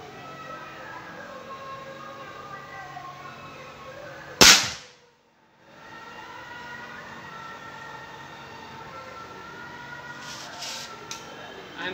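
A single sharp shot from a Gare GM10XS air rifle firing a Hyper Impact pellet at 50 yards, loud and close against steady outdoor background noise, followed by a brief lull and a faint distant tap near the end.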